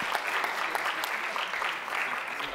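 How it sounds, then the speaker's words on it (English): Warm applause from a workshop audience at a European mobility event, moderately distant clapping spread evenly through the room, with a faint voice mixed in underneath. "Please give him a warm round of applause."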